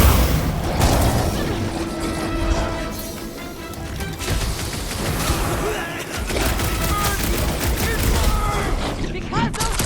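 Rapid gunfire bursts and booming impacts from a fight in the video game Guardians of the Galaxy, dense and loud throughout under layered game sound and music, with speech mixed in.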